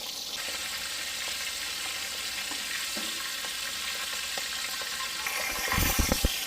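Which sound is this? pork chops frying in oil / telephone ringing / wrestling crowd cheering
pork chops frying in oil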